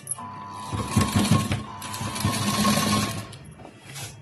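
A sewing machine runs steadily through most of the stretch, stitching piping along the edge of a blouse, its loud motor whir and rapid needle clatter continuing with slight pauses and no speech.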